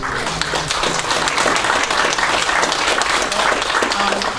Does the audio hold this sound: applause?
yes